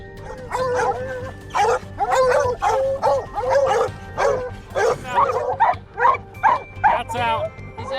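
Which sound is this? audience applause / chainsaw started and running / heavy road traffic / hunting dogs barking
hunting dogs barking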